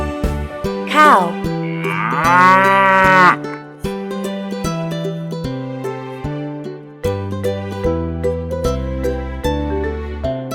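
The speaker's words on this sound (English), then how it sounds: "Cow." A cow gives one loud, drawn-out moo with a rising and falling pitch, followed by a run of bright, evenly spaced musical tones.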